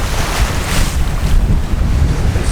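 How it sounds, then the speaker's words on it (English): Strong wind buffets the microphone while ocean waves surge and crash around a sailboat on a rough Atlantic crossing, a loud, constant roar with no talking. "And with all this wind that we have going on here, oh my gosh, look at these waves."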